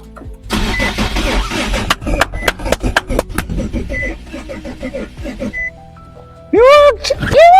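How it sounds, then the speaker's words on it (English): A Dodge Avenger car engine cranks with a rapid rhythmic churning, stumbles, then catches and settles into a rough idle; a voice talks over it near the end. "by slotting this key in here, putting my leg on the brake and pressing this button, the engine should roll"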